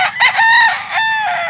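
A rooster crows loudly and close by, one drawn-out call with a rising start, among chickens being sold in Cebu.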